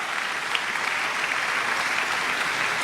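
Church congregation applauding the fathers at a Sunday Mass on Father's Day, a dense, even wash of clapping from many hands that holds steady from start to finish.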